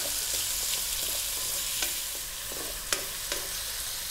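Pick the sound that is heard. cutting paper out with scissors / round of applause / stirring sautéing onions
stirring sautéing onions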